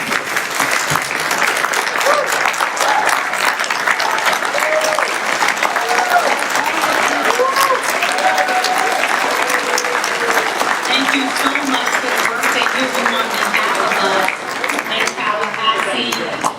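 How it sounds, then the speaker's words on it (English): Sustained applause from a large crowd at a Democratic Party event, steady and dense throughout, with scattered cheers and voices mixed into the clapping. "so we can give you a round of applause"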